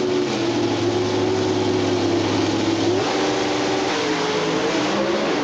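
Pro Stock drag racing cars at the 1992 NHRA Winston Finals scream at very high RPM, loud and sustained, with the engine pitch shifting and wavering partway through before holding steady again.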